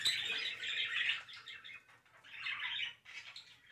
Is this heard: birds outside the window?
yes